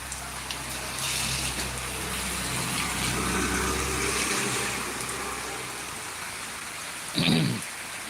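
Unseasonal rain falls in Jambughoda, Gujarat, as a steady close hiss of drops on surfaces, with a brief louder splash near the end.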